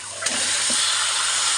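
Marinated meat dropped into a pan of fried spices sets off a loud, steady sizzle and hiss that continues without a break, with a soft thump when it lands.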